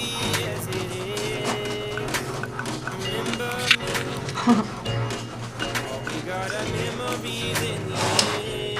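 A home printer runs steadily while printing homemade stickers, a continuous mechanical whir with small clicks and bumps, nearby and fairly loud.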